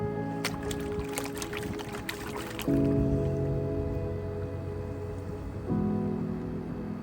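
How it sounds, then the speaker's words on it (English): Gold panning in water in Arizona, swirling freshly chipped bedrock material in a pan: wet sloshing and splashing with a few sharp clicks early on, then a steady watery wash that swells louder twice, close by, with no talking. "I'm just going to pan it fast."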